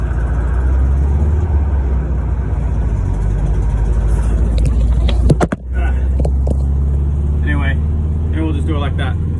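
A 1968 Volkswagen Bus engine drones low and steady while driving, with loud cabin rumble, a brief sharp knock midway, and someone talking over it in the second half.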